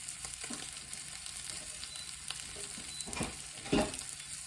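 Cabbage frying in a pan gives a continuous low sizzle, with a few louder crackles and scrapes of stirring near the end, close and fairly quiet.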